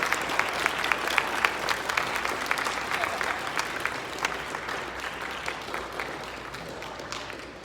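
An audience at a school assembly applauds steadily, a dense wash of clapping held at moderate level from start to finish with no break.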